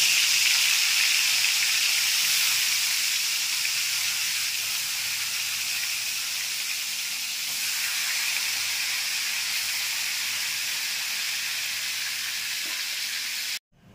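Katla fish pieces frying in hot oil in a kadai, a steady loud sizzle and hiss that holds evenly throughout and cuts off abruptly at the end, with no talking.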